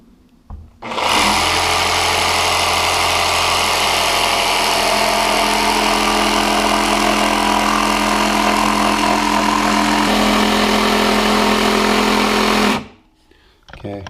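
A Makita DJV180Z cordless jigsaw cuts wood on an orbital setting with a loud, steady motor whine and rapid blade chatter lasting about twelve seconds, starting and stopping abruptly.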